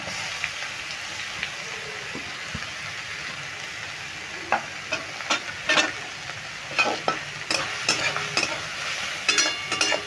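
Grated raw carrot frying in a pan over medium heat, stirred with a steady sizzle and a run of sharp scraping strokes that grow busier toward the end, close and clear with no talk.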